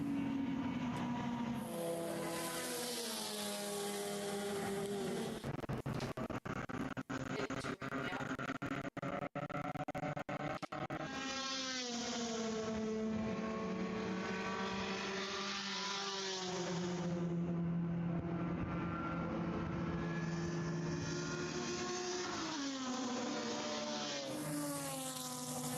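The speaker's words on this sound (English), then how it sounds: "There is the Mazda RX-8 of McManus, who's working his way through" A Mazda RX-8 race car screams through gears at Virginia International Raceway, its loud rotary engine rising and dropping in repeated revving sweeps with brief shifts, constant and close throughout.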